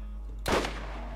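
A single sharp gunshot from the video game Borderlands, a loud close burst that fades quickly over a steady low hum.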